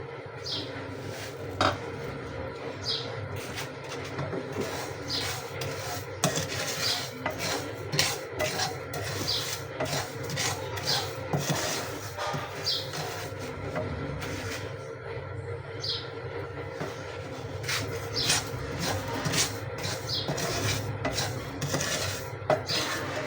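A spoon scrapes and rasps steadily against a metal pan while khoya is stirred over medium heat with dry fruit added, making continuous close rubbing and clinking strokes with no talk.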